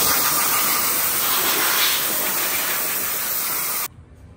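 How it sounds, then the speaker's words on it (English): A pressure spray steadily hisses over the engine bay of a BMW E90 M3, a loud, continuous broadband jet that cuts off abruptly near the end, leaving quiet. "professionally cleaning my engine bay right now"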